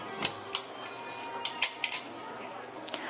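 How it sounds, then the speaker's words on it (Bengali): A pressure cooker lid is set onto the pot while jackfruit is being cooked, giving a few light metallic clinks and clatters scattered over a quiet kitchen, close and fairly soft. "এবার কুকারের ঢাকনাটা আমি দিয়ে দিলাম"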